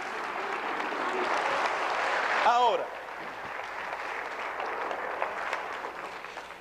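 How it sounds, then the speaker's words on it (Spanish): A church congregation applauds steadily during a sermon, a dense wash of clapping that fades into a quieter murmur while someone speaks over it. "Dale un aplauso a él esta mañana."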